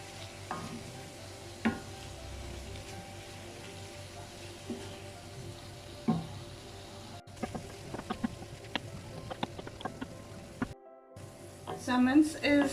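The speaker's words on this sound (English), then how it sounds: "I'm just going to give this a good mix and allow this to cook" Extra lean mince frying in a pan as it is stirred, with a quiet steady sizzle and scattered scraping, clinking taps of the spoon that grow busier near the end.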